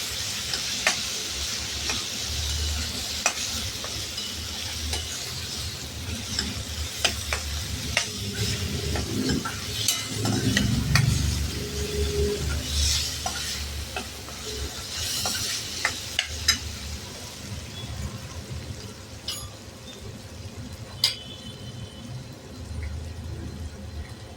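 Moong dal stirred and sautéed in oil in a pan: a steady low sizzle of frying with repeated scraping strokes and light ticks of a spoon against the pan, close and continuous.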